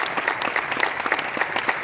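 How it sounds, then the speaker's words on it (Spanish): An audience claps for the speakers at a conference on democratic values and the armed forces, a short burst of dense, steady applause filling the room, with no talking. "Yo creo que se merecen un gran aplauso todos estos ponentes."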